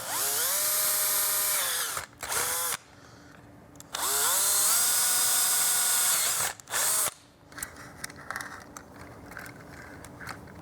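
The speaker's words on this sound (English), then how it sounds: "So I think I'm just gonna drill a hole here and here and just run it across." A power drill boring holes into a Pip-Boy 2000 prop whines loudly in two long bursts with brief pauses, then gives way to quieter clicks and handling noises.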